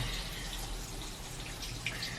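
Water running from a tap in a home laundry setting, a steady close hiss and splash with faint dripping, no voices.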